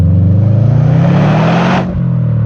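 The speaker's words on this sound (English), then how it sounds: "I wanted a bit more of that flat 4 noise." Subaru Impreza WRX flat-four engine with a Pro Drive back-box exhaust revs up in a loud, close rise, then drops back toward idle near the end, with no talking.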